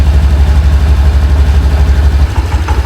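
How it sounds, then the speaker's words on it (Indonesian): Honda BeAT Street scooter at about 30,000 km, idling smoothly after an oil change, a loud close steady low putter that dips briefly near the end. "suara mesinnya udah mulai itu ya"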